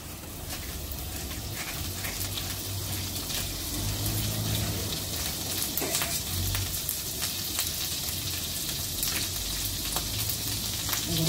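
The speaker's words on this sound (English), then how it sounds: "Let me just put in my garlic butter." Garlic butter sizzles steadily in a hot pan, a close, even frying hiss with occasional pops and crackles.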